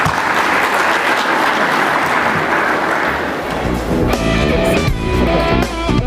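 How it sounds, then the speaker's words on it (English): Audience applause fills a tech conference hall, dense and loud for several seconds before music swells underneath it. "A big round of applause, ladies and gentlemen"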